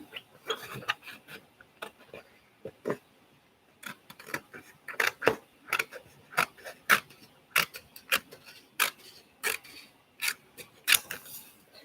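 Scissors snip through a recycled paper coin envelope, sharp crisp cuts coming in irregular bursts close up, with short quiet pauses between clusters of snips.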